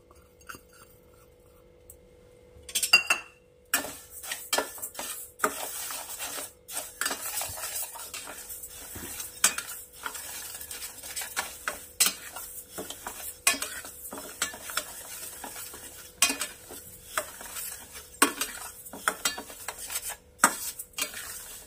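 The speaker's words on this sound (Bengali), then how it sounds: "এটাকে অনবরত নাড়তে হবে, না হলে একটা দিক বেশি পুড়ে যাবে" Moong dal stirred continuously in a kadai on a gas stove: repeated scraping and clinking of a spatula against the metal pan, close and irregular, with no talking.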